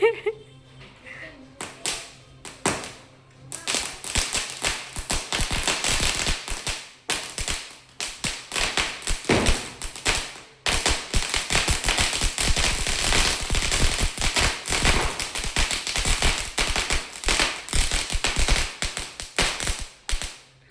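A long Deepavali string of firecrackers bursts in a rapid, continuous rattle of sharp pops for many seconds, with voices in the background.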